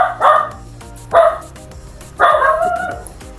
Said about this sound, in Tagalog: Ang aming alagang aso si Sophie